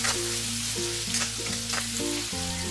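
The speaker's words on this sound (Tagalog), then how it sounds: "Igisa na rin natin tong hiniwang sibuyas" Sliced onion and tomato sautéing in a pan give a loud, continuous close sizzle with a steady low hum beneath, no speech.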